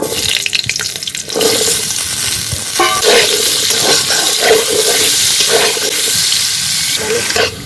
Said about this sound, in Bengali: এখন আমি আলুগুলোকে ভেজে নেব।